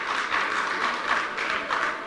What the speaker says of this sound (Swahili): Tumpigie makofi tafadhali kwa kazi njema amefanya